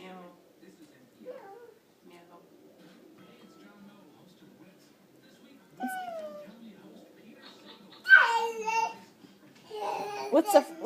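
A voice imitates a cat's meow in a few drawn-out, rising and falling cries, loudest near the end, between quiet stretches with a small child babbling.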